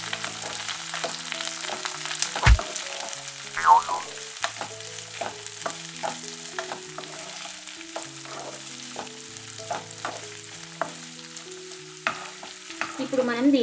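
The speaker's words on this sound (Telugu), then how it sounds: "ఇప్పుడు వీటిని మనం బాగా కలుపుకోవాలండి." Carrot pieces and curry leaves stir-fry in a pan with a steady close sizzle, punctuated by repeated scraping strokes of a spatula and an occasional louder knock against the pan.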